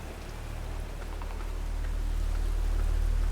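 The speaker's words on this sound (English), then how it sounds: "It's raining. How could it possibly be dry?" Rain falls steadily in the video game Black Mirror, an even hiss of drops over a low rumble that slowly grows louder, with no voices.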